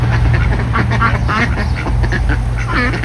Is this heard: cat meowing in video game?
no